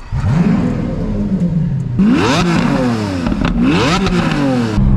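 A Lamborghini Aventador engine revs hard in loud, close bursts, climbing and dropping in pitch two or three times over a steady roaring idle.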